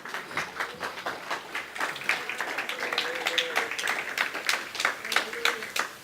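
A church congregation claps at a moderate level, with many hands striking in a scattered, rhythmic pattern and voices mixed in beneath the applause.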